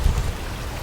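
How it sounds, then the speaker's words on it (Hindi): Cartoon waterfall, a steady broadband rush of falling water with heavy low rumble, continuous and fairly loud with no talk over it. "बीरबल जी, नक्शे के मुताबिक हमें इस झरने के उस पार जाना है।"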